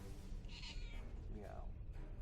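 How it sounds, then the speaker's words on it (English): A cat meows in Star Trek Online, with two distinct meows, the first higher and the second lower and falling, over a low background hum of game ambience. "Meow to you too."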